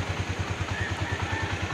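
A 155cc motorcycle engine idles in a steady, even low thumping pulse with a faint mechanical clatter on top, close by and without anyone talking.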